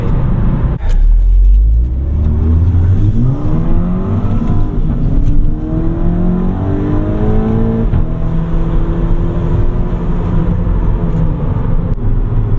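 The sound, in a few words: 2014 Mk6 GTI Stage 2 accelerating with wheel spin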